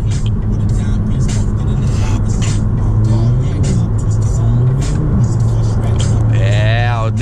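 An Audi A3 turbo accelerates hard with a steady, loud engine roar and a rising whine near the end, while people talk over it.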